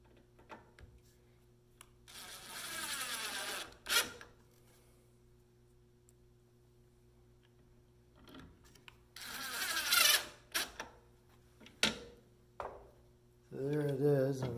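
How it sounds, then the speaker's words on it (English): A power driver sinking 3/4 inch screws through a Magswitch MAGJIG into wood, two long whirring runs and a shorter final burst, close, separated by quiet handling clicks. "Go ahead and screw the mag switch onto there."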